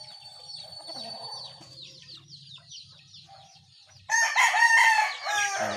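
Chickens cluck and murmur softly nearby, then a rooster bursts into a loud, close crow near the end.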